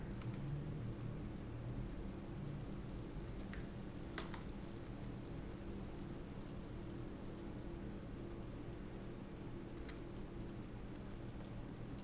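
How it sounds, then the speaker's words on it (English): Steady rain ambience from the video game A Plague Tale: Requiem, a soft, constant hiss that holds at a low, even level throughout with no voices. "Everyone hiding away from the rain."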